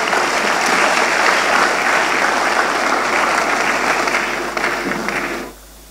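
A large graduation ceremony audience claps steadily, a dense sustained roar of applause that holds for several seconds and then stops abruptly.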